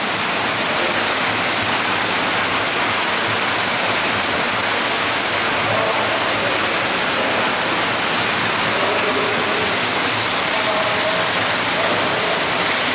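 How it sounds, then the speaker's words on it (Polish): Steady broadband rush of indoor fountains and a waterfall running down a wall in a palm house, continuous and fairly loud, filling the space with no pauses. "Czuję taki wodospad"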